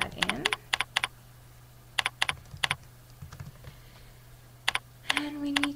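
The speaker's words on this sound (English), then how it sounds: "We can type that in" Typing on a computer keyboard during a spreadsheet demonstration, with several quick bursts of key clicks separated by pauses over a steady low hum.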